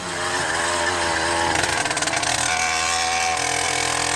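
A 100cc motorized bicycle engine with a 49mm iron sleeve runs close by, a loud buzzing two-stroke drone that revs up midway with a rapid pulsing rattle before settling back.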